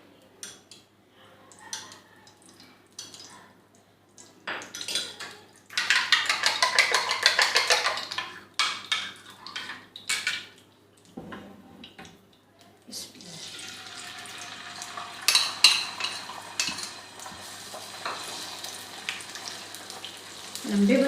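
Beaten eggs seasoned with black pepper and salt fry in a pan, bursts of loud sizzling that come and go, then settle into a long steady hiss, with brief clattering between.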